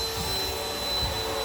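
A ProTeam Super CoachVac backpack vacuum cleaner runs in a church with a steady whining motor drone. It is close, constant and without talk.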